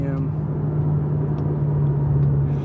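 BMW M6 Gran Coupe engine under acceleration on a wet motorway onramp, a steady loud drone with strong low hum from inside the car, continuous for the whole stretch.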